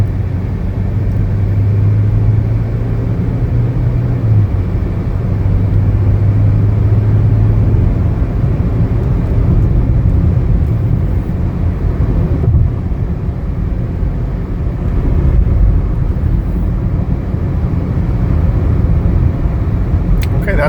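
A 2019 Chevrolet Equinox LT on a test drive, its steady road and engine rumble continuous and fairly loud throughout, with a voice talking over it.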